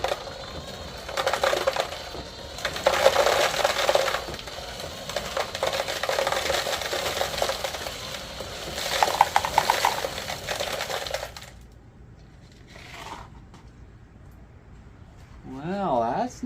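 A small 12-volt-capable motor, run at 7.4 volts, turns a 1/14-scale model trommel full of pea gravel. Gravel rattles and crunches steadily for about eleven seconds, then the sound drops away, and a voice speaks near the end.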